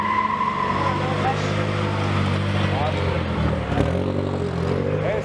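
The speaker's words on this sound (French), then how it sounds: "Ferrari 458 qui arrive derrière." A Ferrari 458 sports car arrives at a cars and coffee festival, its engine a loud, steady, close rumble throughout, with a person talking over it.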